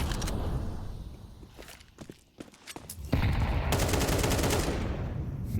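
Sustained automatic gunfire in a professional Counter-Strike match, with scattered shots and steps followed by a loud, continuous burst of rapid fire.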